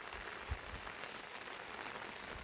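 Sudden rain falling in a village at Kezhuvathur, a steady close hiss of drops on the ground and surfaces, continuous and even with no voices.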